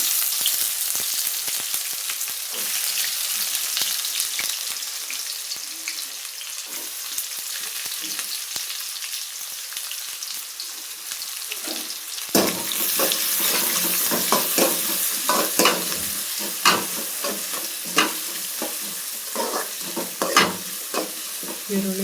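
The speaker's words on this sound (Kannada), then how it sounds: "ಈರುಳ್ಳಿ, ಬೆಳ್ಳುಳ್ಳಿ ಫ್ರೈ ಆಗಬೇಕು." Crushed garlic and onion fry in a pan for a North Karnataka-style menthe kadubu recipe, giving off a continuous close sizzle with occasional stirring scrapes that grow louder partway through.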